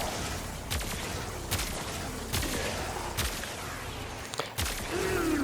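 Linear fusion rifle from Warframe, a sniper-style weapon, firing a series of sharp charged shots at a slow, steady pace, about six bursts spaced roughly a second apart over constant game background noise.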